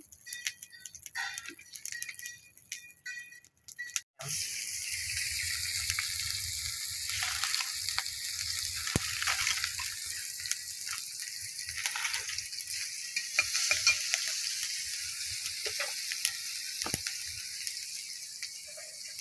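Hilsa fish dropped into hot oil, a sudden loud hiss after a quiet start that settles into steady crackling sizzle with occasional pops, close and continuous without talk.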